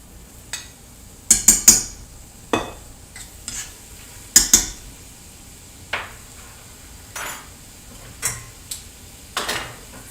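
A big Italian wooden spoon stirring stew of olive oil, garlic and white onion in a pan, irregular close knocks and scrapes against the pan at uneven intervals, no talk.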